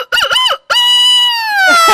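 A person imitates a rooster, voicing two quick clucking bursts and then a long, loud drawn-out crow that dominates the moment.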